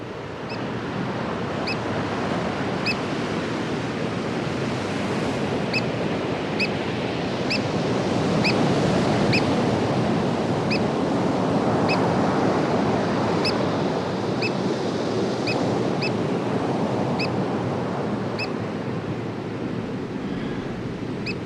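Waves surge steadily onto a rocky lakeshore at a small cove where a canoe is being landed, a continuous loud wash with wind noise, broken by faint regular high ticking.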